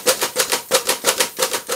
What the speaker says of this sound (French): Là, vous venez de voir la saisie sur le clavier monotype.